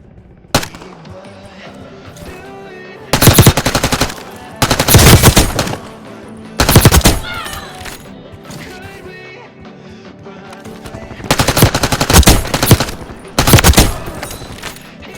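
WSP 9 submachine gun in the mobile shooter Warzone Mobile, fired in several loud sustained automatic bursts separated by short pauses, with quieter game sounds filling the gaps.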